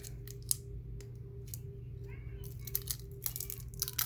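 Scissors snip through the packaging of a 1987 Donruss Opening Day baseball card set, with repeated close clicks and crinkling plastic against a steady low room hum.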